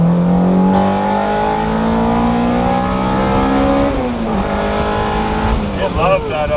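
A Honda Type-R engine revs hard on a dyno, its steady climbing tone jumping sharply as VTEC engages, then dipping and rising again with a wavering upper harmonic; loud and close, with people talking over it.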